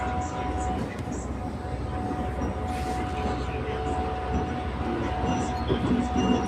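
A train rolls along the rails with a steady, moderately loud rumble and rattle heard from inside a carriage, with faint voices in the background.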